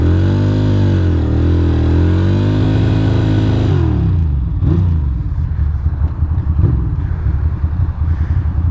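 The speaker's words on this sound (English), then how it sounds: "Looks like the perfect day for a burnout." Ducati motorcycle in heavy rain on a wet city street, engine revving hard with a wavering, rising and falling pitch as in a burnout, then dropping to a rougher, choppier running sound; loud and close throughout.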